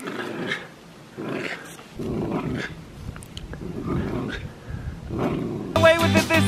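A dog growls over a stick outdoors in Ireland, with several low, rough growls in bursts, close and fairly clear, broken by short gaps, and a person's voice talking between them.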